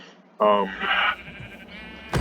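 Sheep bleating in a video game: one loud wavering bleat, then a second quieter, higher bleat, ending with a short sharp burst.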